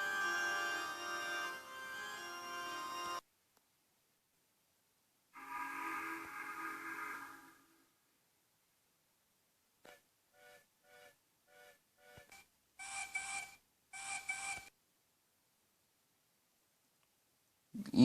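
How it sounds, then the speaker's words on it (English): Steam engine whistles sound in bursts, a long sustained tone followed by a second shorter blast, then scattered clicks and two brief sharp hoots before quiet. "they vanished into the night as they were blowing their whistles."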